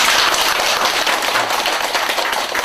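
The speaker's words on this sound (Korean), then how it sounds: "박수 한번 주세요." An audience applauding during a Buddhist college lecture at a temple, steady dense clapping that stays loud and even for a few seconds without any voices over it.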